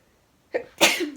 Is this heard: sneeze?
yes